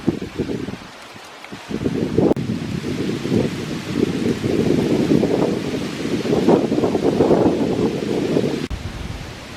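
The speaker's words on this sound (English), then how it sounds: "Very windy up here." Strong wind gusts across a bare hilltop in Iroquois Park on a cold, foggy November morning, roaring and buffeting the microphone with a loud, continuous rush and brief lulls.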